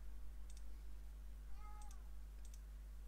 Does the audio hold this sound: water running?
no